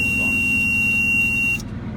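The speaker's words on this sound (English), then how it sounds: "but for DMV it's 55 to 75 with that low air alarm" A truck's low air pressure warning alarm buzzes steadily as a continuous high tone over a low idling engine rumble, then cuts off abruptly near the end while the engine keeps running.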